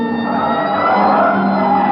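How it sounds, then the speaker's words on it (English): A police car siren from an old radio crime drama, a loud, steady wailing tone with engine rumble beneath, heard alone without voices. "Hit the siren."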